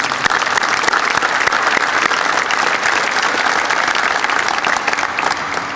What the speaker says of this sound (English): Let's give the Dorsett family another round of applause.